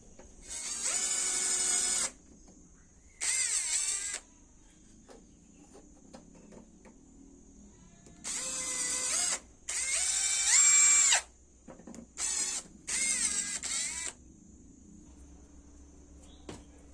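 A power drill whines in several bursts of a few seconds each, grinding as the bit bores through metal for a homemade pipe clamp, with quiet gaps between.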